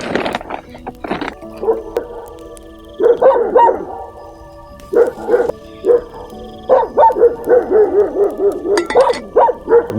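Dogs bark repeatedly around a dark night campsite in the jungle, loud and near, in short bursts that grow into a steady run of barks toward the end.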